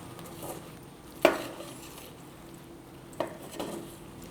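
Puffed rice (malar) being stirred into a dish for an Onam offering: a spoon clinks and scrapes against the pan a few times, close by, over a soft, steady background rustle.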